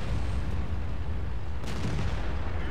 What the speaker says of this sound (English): I'm going to stop and take a shot